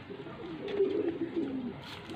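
Pigeons coo softly in a loft holding around a hundred Faisalabad birds, one low rolling coo standing out faintly above a quiet background, with no talking.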